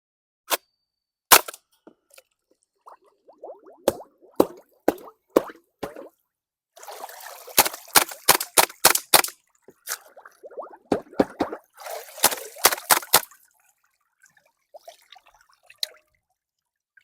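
Sharp snappy reports from an airsoft gas blowback HK UMP45 fired in water, single shots spaced apart, then dense rapid bursts of pops with splashy wet hiss between, loud and close with no talk.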